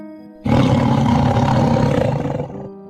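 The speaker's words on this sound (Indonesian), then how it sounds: "Hanya auman yang sangat menggema terdengar jelas dan nyaring" A large tiger lets out a long, loud, echoing roar lasting about two seconds, deep and rumbling over a faint background tone.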